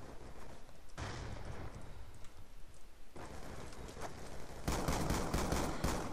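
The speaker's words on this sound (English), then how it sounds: "I know it's called Assault Rifle, but it is actually a shotgun." Gunfire from a shotgun in the video game Black Ops 2, a dense burst of rapid shots with a louder volley near the end, steady and close with no talk.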